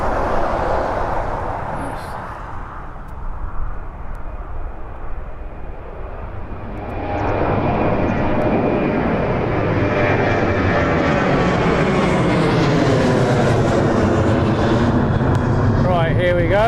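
Ryanair airliner at East Midlands Airport, its jet engine roar building from a quieter rumble into a loud, sustained rush with shifting tones as it passes, while a person talks throughout.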